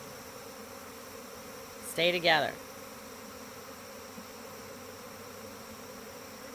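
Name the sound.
swarm of bees buzzing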